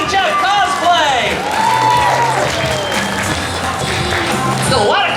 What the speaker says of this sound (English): Let's give a round of applause for the Killing Jeff cosplay!